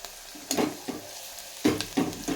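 Onions frying in a pan for an old-style Telugu bottle gourd and split moong dal curry, with a soft, steady sizzle broken by a few louder scraping stirs of a spatula, close and alone without talking.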